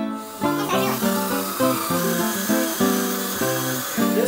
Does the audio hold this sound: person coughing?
no